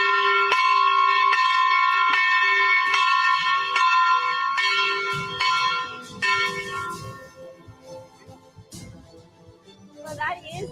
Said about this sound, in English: Well, that is the budget day bell.